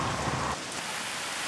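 A heavy rainstorm pours down with a loud rumble of thunder that cuts off midway, leaving dense steady rainfall hissing alone in California.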